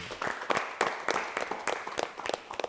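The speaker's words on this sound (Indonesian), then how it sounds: "Tepuk tangan." A small studio audience at a talk show claps in a sparse, uneven rhythm, distinct individual claps coming in loose clusters, close and moderately loud.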